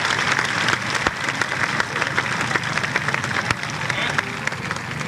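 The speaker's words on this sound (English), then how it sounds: "How about a great big round of applause for Denise?" Audience applause at a 1980 Saltwater Circus dolphin show at Kings Island, cheering a volunteer; a dense, steady crowd clapping fills the whole stretch, fairly loud and continuous with a few sharper claps standing out.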